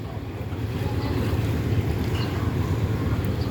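Floodwater flowing past a building on what was once farmland, a steady loud rushing wash with no pauses and no talk.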